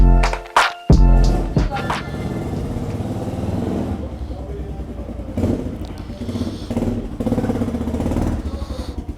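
A Motorhead Sports 250 dirt bike engine sputters and revs roughly at first, then settles into a rumbling idle with small throttle blips, close by and fairly loud throughout.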